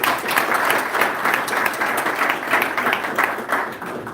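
A crowd at a business partnership ceremony claps in a full, continuous round of applause, close and fairly loud, thinning slightly in the final second.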